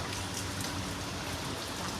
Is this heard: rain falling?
yes